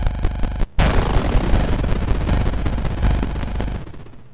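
Loud game shooting from Mothmen 1966, a burst of blasts opening the clip, a short silent gap, then a long dense rumbling barrage of gunfire that fades toward the end.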